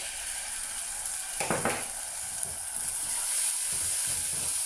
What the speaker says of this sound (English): Fry it for a while, not too long.